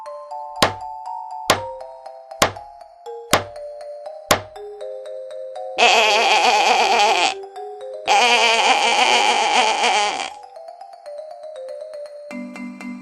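Five sharp, ringing hammer blows land at a steady pace, followed by two long, wavering sheep bleats, all over a soft tinkling background melody.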